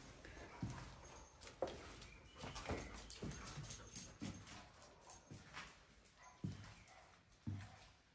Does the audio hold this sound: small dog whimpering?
yes